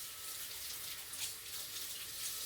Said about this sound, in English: Rinse off our hands.